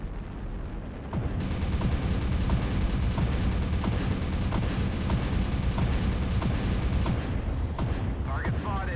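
Heavy, sustained weapons fire from battling mechs in a video game, including Gauss cannon shots, forms a dense, loud roar with repeated sharp impacts throughout.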